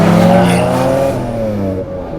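A Nissan R31 Skyline with an RB30 engine revs loudly from close by, a brief raspy surge that then settles back down.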